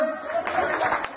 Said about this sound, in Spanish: fuerte el aplauso para Nadinda